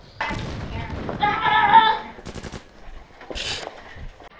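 Foam-dart toy blasters fire during a backyard Nerf battle, several quick bursts of rapid soft thumps and clatters close by, mixed with shouting and talk between the volleys.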